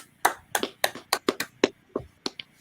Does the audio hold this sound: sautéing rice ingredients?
no